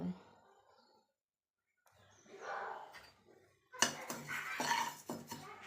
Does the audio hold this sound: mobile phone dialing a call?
no